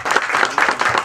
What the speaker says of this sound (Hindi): तालियां बजती रहनी चाहिए सर के लिए।